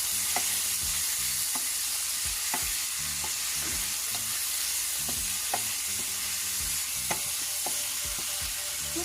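Jamaican ackee, previously frozen, cooks down with blended seasoning and vegetables in a pan: a constant close sizzle broken by regular scraping stirs of a utensil, with no voices.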